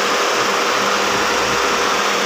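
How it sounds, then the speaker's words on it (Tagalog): An engine runs steadily after rewiring work on an auxiliary fan setup, giving a continuous hissing mechanical hum with no breaks and no voices. "Sa wakas umandar na rin yung makina."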